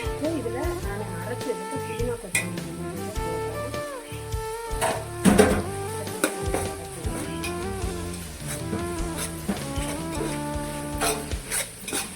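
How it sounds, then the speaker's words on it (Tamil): Onions and tomatoes sautéing in a pan for chicken biryani, a steady soft sizzle with scraping and stirring strokes from a spoon, close and continuous. "தக்காளியும் இன்னும் நல்லா வதங்கட்டும் பாருங்க"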